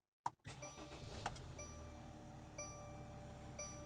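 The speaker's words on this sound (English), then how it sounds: "let's go ahead and start up the vehicle" Engine of a 2019-or-later 907-generation Mercedes Sprinter van starting: a sharp crank burst, then a steady idle hum with faint whines and small clicks, heard close and with no talking.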